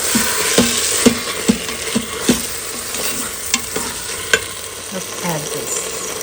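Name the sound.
sautéing chicken curry in an Instant Pot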